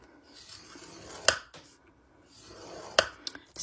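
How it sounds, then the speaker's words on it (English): Paper being scored for an altered shopping pad, two sharp creasing strokes on a scoring board, close and fairly quiet, spaced a couple of seconds apart with soft rubbing between. "So I'm going to flip this over. And I'm going to score at 3 3/4"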